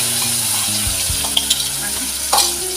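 Coconut paste tipped into a pan of fried chillies for a Kolhapuri mutton masala, giving a steady close sizzle with light stirring scrapes and a couple of brief clatters, no voices.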